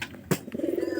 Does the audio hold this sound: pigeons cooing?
yes